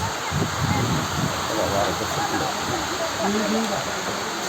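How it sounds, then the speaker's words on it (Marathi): Steady rain hisses down outdoors at a gathering near the Mahalakshmi temple in Chivari, Maharashtra, a constant wash of noise with people talking faintly underneath. "काय पाऊस चालू झाला"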